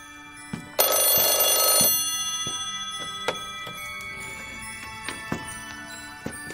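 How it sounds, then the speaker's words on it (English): A telephone rings in a short burst of electronic bell tone, fairly loud, followed by a few faint ticks and clicks in a quiet room with no talking. "Whenever Sonoma calls me on this phone, he has something important to tell me."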